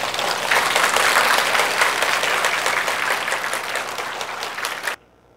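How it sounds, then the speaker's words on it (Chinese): An audience gives loud, sustained applause at the end of a lecture on Buddhism. The clapping stays dense and even for about five seconds, then stops abruptly. "让我们再给老师热烈的掌声好吗"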